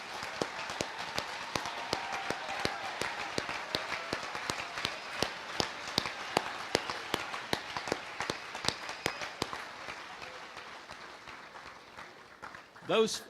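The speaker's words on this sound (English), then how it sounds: "Teachers and coaches, let's give them a round of applause." A crowd at the Kansas FFA state contest results applauds teachers and coaches, with sustained clapping and distinct sharp individual claps standing out, gradually thinning toward the end, where a voice cuts in briefly.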